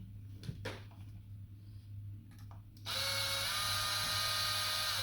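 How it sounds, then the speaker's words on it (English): A small drill pilot-drills holes in a PS5 DualSense controller shell: a few faint handling taps, then the drill starts and whines steadily and loudly at close range, over a low constant hum. "pilot drill these 2 holes"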